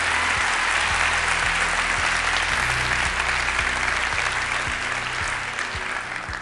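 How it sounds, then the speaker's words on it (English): Live audience applause at a stage show, a loud continuous mass of clapping with a few low thumps underneath, holding steady before easing slightly toward the end. "along with a big round of applause from all your friends"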